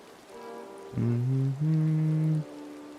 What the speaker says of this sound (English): It's never not raining in my valley.